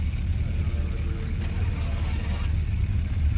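A car engine in the video game Car For Sale hums with a steady, mid-pitched drone and slight swells as it revs, dense and continuous throughout, with no talk over it.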